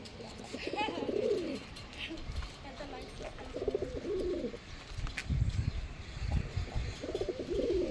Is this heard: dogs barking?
no